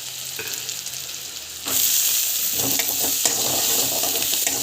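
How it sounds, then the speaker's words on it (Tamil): Curry leaves and onion dropped into hot oil, a quiet pan that bursts into a loud, bright sizzle partway through, followed by steady frying crackle with occasional stirring scrapes, close up and without speech. "கருவேப்பிலை ஆனியன் வந்து போட்டுக்கலாம். நல்லா வந்து வதங்கட்டும்."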